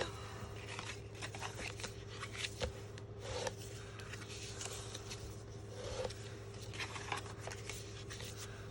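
Folded cardstock pieces for a Halloween treat box are burnished along the raised score line by hand, producing soft continuous rubbing and scraping strokes with a few sharper swipes, close and quiet against a steady background hum.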